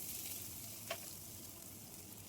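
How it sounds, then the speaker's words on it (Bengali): Ginger and green chilli paste frying in oil for a vegetarian cauliflower, potato and paneer kalia, a faint, steady sizzle with one brief stir click midway, no voices. "আদা আর কাঁচা লঙ্কাটা তেলের মধ্যে কিছুক্ষণ একটু ভেজে নেব।"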